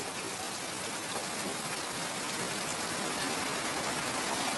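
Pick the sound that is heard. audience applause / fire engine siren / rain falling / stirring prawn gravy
rain falling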